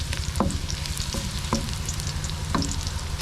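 Garlic frying in a pan for chicken and pork adobo, a steady close sizzle with a few clinks of a utensil stirring through it, no voices.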